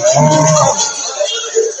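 A Sahiwal bull at a cattle market gives one loud, close moo that fades into a lower tail, with faint background noise afterward.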